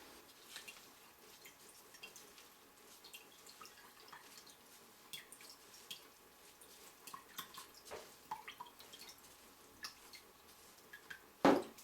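Herbal extract liquid strained off spent herbs, dripping with faint scattered drips and small trickles at irregular intervals, quiet and close, ending in a sharper splash.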